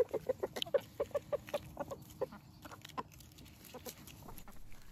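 Backyard chickens cluck in quick, repeated bursts nearby, a busy run of short calls that thins out toward the end.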